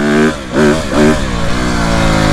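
Dirt bike engine revving up in bursts and then easing off, a loud, close, buzzy mid-pitched note rising and falling a few times in quick succession before settling into a steady drone.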